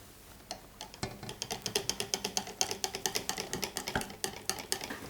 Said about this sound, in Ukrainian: Потроху вливаємо молоко до нашої сметанкової суміші та все перемішуємо.